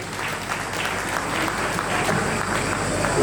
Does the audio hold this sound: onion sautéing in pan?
no